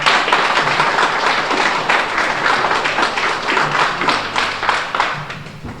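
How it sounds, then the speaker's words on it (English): Audience at an 8-ball pool tournament applauding an introduced guest, steady dense clapping from a roomful of people that carries on throughout at moderate loudness. "Let's give him a big round of applause."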